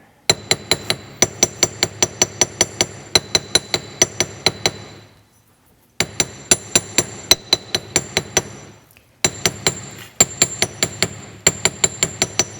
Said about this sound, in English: I'm going to do some hammering.